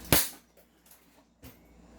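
A CZ Tactical Sports 2 airsoft gun fires one sharp, loud close snap, followed by a fainter click a little over a second later, in an otherwise quiet room.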